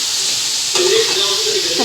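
Chopped tomato goes into onions frying in oil with chili powder, and a close, steady hiss swells into a louder sizzle as it lands in the pan.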